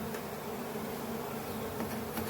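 Honey bees swarming around an open brown hive during an inspection with a smoker, a dense, continuous buzzing hum, close and steady with no talking.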